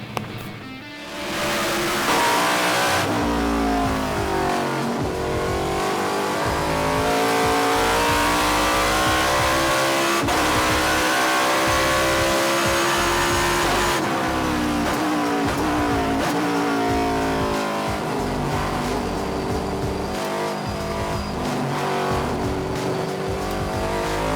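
Race cars accelerating hard around the Lime Rock circuit, engines roaring loud and continuous with rising and falling revs as cars pass close, a dense sustained motorsport din with no talk.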